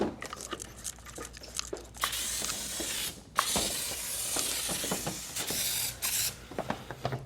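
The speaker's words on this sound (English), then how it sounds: "If you want to spray the side of the car" Close, hissing bursts of spray onto the body of a 2024 Subaru WRX, several short and long blasts with brief pauses between them, plus some rubbing and crinkling sounds.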